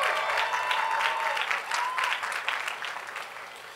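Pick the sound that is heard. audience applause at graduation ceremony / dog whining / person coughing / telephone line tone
audience applause at graduation ceremony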